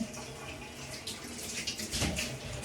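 Water runs from a tap into a tub with a soft, steady splashing, fairly quiet and close, with no one talking.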